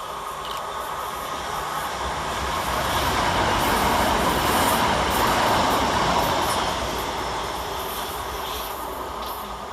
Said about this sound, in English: Coming southbound for Southeastern is 375624, working 1 Zulu 10 from London Bridge to Hastings.